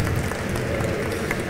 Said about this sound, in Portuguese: peço uma salva de palmas para o Demi